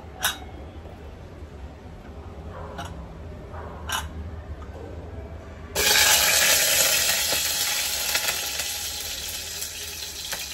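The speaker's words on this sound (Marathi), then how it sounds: "पहिल्यांदा बटाटा फ्रीज करायचा आणि नंतर थोडे तेलात गोल्डन ब्राऊन होईपर्यंत फ्राय करायचे." Potatoes for dum aloo drop into hot oil and burst into loud, steady sizzling that tapers slowly, after a few light clinks from a utensil.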